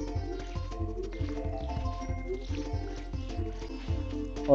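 Crops watered with a watering can in Stardew Valley, with short splashy liquid sound effects repeating in a quick rhythm over steady game music, nobody talking.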